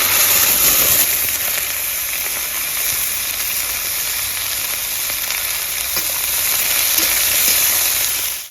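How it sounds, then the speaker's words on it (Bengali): Onions dropped into very hot oil with dried red chillies and whole cumin, a loud, steady, close sizzle and hiss lasting the whole clip. "তেলটা খুব ভালো গরম হয়ে গেছে, পেঁয়াজগুলো দিয়ে দেবো।"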